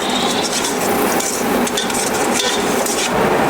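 Tomato paste being stirred into sweated vegetables in a pan for Greek octopus pasta, a steady close scraping and rubbing of a utensil against the pan that continues without a break and with no voices.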